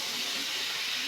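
Prawns frying with sweet pumpkin in a pan give a steady, close hiss of sizzling for about a second, with no voices.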